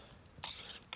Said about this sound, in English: This pasta, you want to continue to stir it.